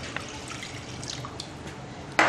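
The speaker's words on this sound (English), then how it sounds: "all I'm going to do is to add this glass of water" A glass of water is poured into a heavy 3-quart cooking pot, giving a soft, steady trickle with faint drips, then a louder splash at the very end.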